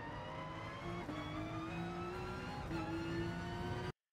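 A Porsche 911 RSR accelerating out of a corner at Tsukuba in GT Sport, a close, loud engine note climbing steadily in pitch with a couple of brief gear-shift dips before cutting off abruptly.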